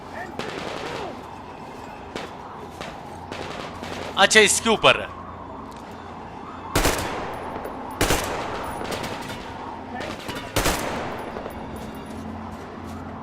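Bursts of gunfire in Metro Exodus: a rapid automatic volley, then several sharp single shots spaced a second or two apart, with a voice speaking briefly in between.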